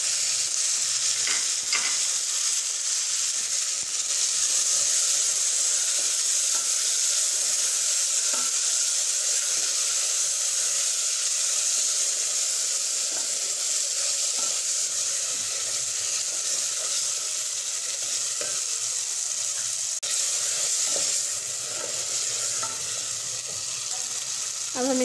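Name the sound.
tomatoes frying in desi ghee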